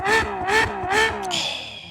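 A Ferrari 6.5-litre V12 revs three times in quick succession, each rise a loud, rising howl, close by and with no talking.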